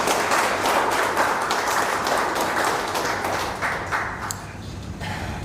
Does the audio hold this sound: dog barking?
no